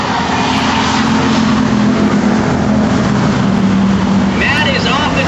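Race cars of a 2003 short-track series, including the No. 61, roar hard and steady as the field accelerates on a green-flag restart, a dense engine wall with an announcer talking over it.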